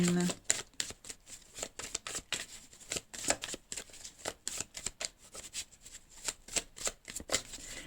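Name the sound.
tarot cards being shuffled and drawn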